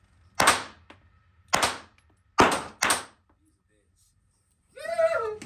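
Four sharp, loud gunshots at an indoor-style shooting range in Kansas, fired in an uneven rhythm with short gaps, followed by a brief voice speaking near the end.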